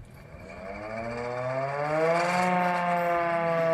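A siren for a school disaster-management drill, similar to a fire brigade siren, winds up from a low groan into a loud, rising wail that holds steady near the end.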